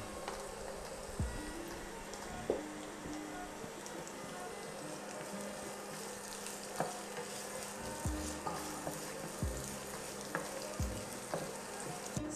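Sliced onions fry in oil toward golden brown, a soft, even sizzle near the pan punctuated by occasional spoon taps and scrapes against the pan, with no talking.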